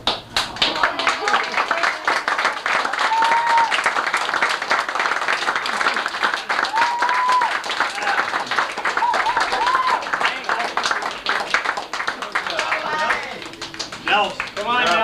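A family reunion crowd applauds indoors, steady clapping under chatter and voices throughout, with occasional whoops and a voice rising near the end.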